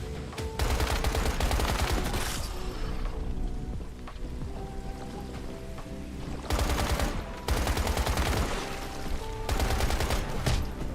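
AK rifle fire in the video game Once Human: dense, loud bursts of automatic shots in several long volleys with short lulls, layered over a steady game soundtrack.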